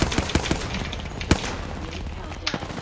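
Video game gunfire rattles in a Ranked battle royale shootout: several sharp bursts and single cracks at uneven intervals, close and punchy, with players talking between the shots.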